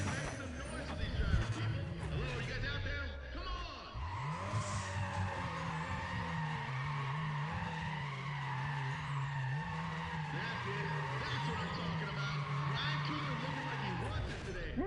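A race car in the game NFS ProStreet skids and revs, with a sustained engine drone and tire squeal after a brief dip, and a voice talking faintly underneath.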